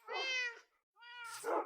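A cat meows twice in a video game, a drawn-out meow and then a shorter, rising one, both close, clear and alone, with a short gap of silence between them.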